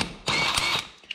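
A socket wrench loosening a lawn mower wheel, a single short burst of whirring, clicking mechanism sound about half a second long, close and moderately loud, followed by a faint click.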